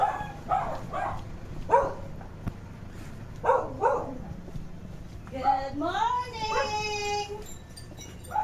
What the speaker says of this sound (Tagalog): baka kagatin ako ng aso